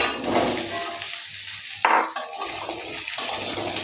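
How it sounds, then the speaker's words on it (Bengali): Chopped pumpkin stirred and fried with onions in a pan, a continuous close sizzle with scraping spoon movements and a brief clatter partway through, no talking. "এবার কুমড়োটাকে একটু নেড়ে চেড়ে কষে নেব।"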